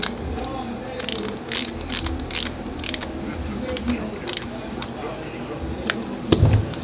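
A screw on the blade bracket of a StyleCraft Ergo hair clipper is tightened with a rapid series of small ratcheting clicks, close and crisp, under a person talking.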